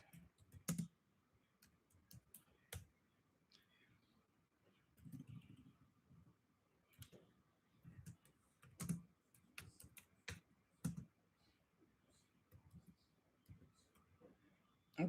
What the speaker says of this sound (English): Let me just type this one out for you guys first.